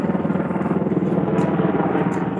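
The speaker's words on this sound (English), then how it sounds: "Get the military helicopter in the video." A Black Hawk military helicopter passes overhead, its steady, loud rotor drone pulsing with a low, rhythmic chop throughout and no other sound competing.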